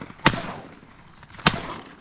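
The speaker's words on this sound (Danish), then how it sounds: "Jeg fik den der i sidste skud." Two loud, sharp shotgun blasts go off about a second apart during a duck and snipe hunt outdoors, each one ringing out briefly before fading.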